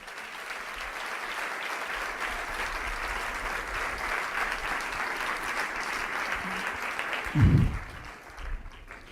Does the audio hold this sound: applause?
yes